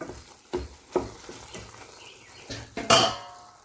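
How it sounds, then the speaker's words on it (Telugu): Ginger garlic paste fries in hot oil while a spoon stirs and scrapes the pan, giving a run of soft knocks and sizzling bursts that ends in one louder clatter. "చూసారుగా ఈ అల్లం వెల్లుల్లి పేస్ట్ అంతా బాగా వేగాలి."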